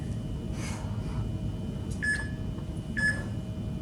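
Two short electronic beeps from a workout interval timer ring out about a second apart during an ab circuit, clear over steady room noise.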